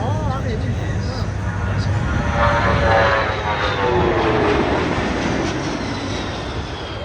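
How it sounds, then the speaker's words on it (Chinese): Boeing C-17 Globemaster heavy transport of the Australian air force landing at an air show, a loud sustained jet roar swelling and fading as reverse thrust slows the roughly 200-tonne aircraft, with people talking over it. "那接下来登场的是澳洲空军最大的运输机全球霸王，使用反向推力，把超过200多吨机身在最短的距离内停下来。"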